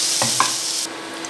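Chopped onions with a pinch of salt fry in a pan for a Bengali climbing perch curry, giving a close, steady sizzling hiss with a couple of soft stirring touches.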